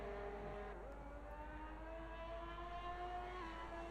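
A video game race car engine drones steadily at a distance, its pitch rising slowly as it builds, faint and continuous with no voices.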